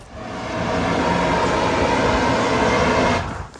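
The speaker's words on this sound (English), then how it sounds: "So they're releasing the pressure from the train." A loud, steady hissing rush of steam released from a steam train at a railway museum fills the air, holding constant for several seconds before cutting off abruptly.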